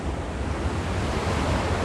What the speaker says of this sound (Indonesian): Di sini ini adalah gua atau hembusan angin yang dibawa oleh ombak